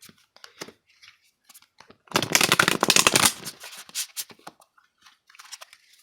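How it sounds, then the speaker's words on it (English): Tarot cards riffle and slap together in a dense burst of shuffling lasting about a second, flanked by softer scattered card handling and light taps, close and fairly loud with no speech. "I'm going to go ahead and shuffle once more"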